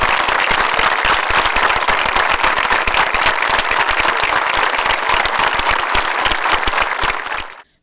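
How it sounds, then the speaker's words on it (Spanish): A crowd at a funeral gives a minute of applause: dense, loud, continuous clapping with no gaps that fades out at the very end. "Despidámoslo con un minuto de aplausos."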